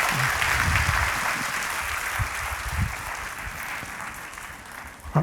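Applause from a church congregation during a Sunday worship service fills the clip, steady and fairly close, with a few faint voices underneath.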